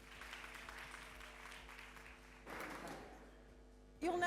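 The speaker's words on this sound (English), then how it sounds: "Round of applause for Naomi." An audience at a business conference claps for the next speaker coming to the stage. The applause is a soft, steady patter of many hands, fairly faint and distant, with a brief swell near the end.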